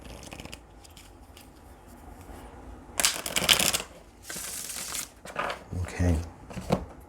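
Papery riffling bursts of tarot cards being shuffled, a few quick rounds with short pauses between, moderately close.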